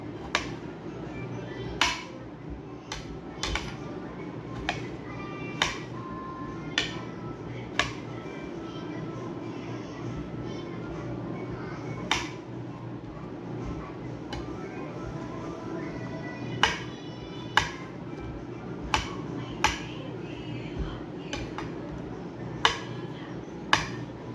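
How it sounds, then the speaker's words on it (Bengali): Eggplant being finely chopped with a knife on a cutting board: irregular sharp taps of the blade striking the board, some in quick runs, over a soft steady background. "বেগুনটা এরকম করে নিতে হবে, এরকম ছোটো ছোটো করে কুচি কুচি করে নিতে হবে"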